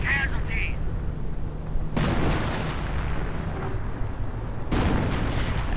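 Artillery shells strike a repair bunker in a 1v1 real-time strategy game, landing as heavy booms and bursts amid ongoing battle noise, with a commentator talking over it.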